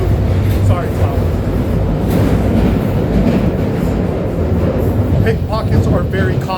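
A London Underground train rides between stations, a loud continuous rumble and rattle of wheels on track with faint squeals, heard from inside the carriage throughout.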